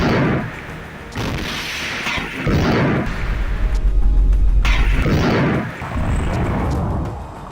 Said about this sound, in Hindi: जिस पर सामने से एक बम या रॉकेट आकर गिरता है, जिसमें जोरदार धमाका होता है।